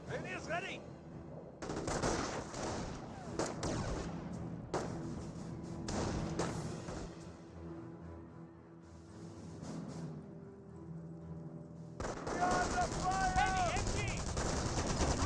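Gunfire from a Company of Heroes battle, with machine-gun bursts and scattered rifle shots crackling through a dense, steady wash of combat noise, mixed with game sounds and voices throughout.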